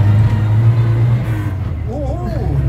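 A 1969 Morris Minor panel van pulling away, its loud low engine drone heard from inside, easing in pitch as it gets going, with a voice speaking over it.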